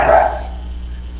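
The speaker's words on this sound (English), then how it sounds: "can hear the dog from my background." A dog barks once in the background at home, a short muffled bark at the start that fades over a low steady hum.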